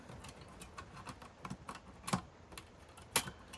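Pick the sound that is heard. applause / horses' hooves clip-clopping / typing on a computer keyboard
typing on a computer keyboard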